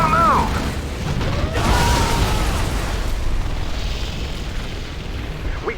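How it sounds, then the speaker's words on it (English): TOW missile launches and explosions in the Command & Conquer Generals battle game, a broad booming blast up front followed by rumbling detonations and scattered pops, with game voice lines spoken over it. "Hey, check out our new tow missile."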